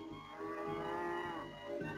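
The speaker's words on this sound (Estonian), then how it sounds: "Ma õpetasin lehma ammuma." A cartoon cow gives a long, drawn-out moo with a wavering pitch that swells and fades, heard alone with no talk.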